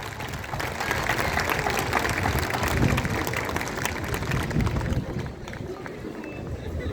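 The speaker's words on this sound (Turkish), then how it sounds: "Evet alkışlar Naz Barın için" Sustained applause from a crowd at a graduation ceremony, dense and steady clapping for several seconds that gradually thins toward the end.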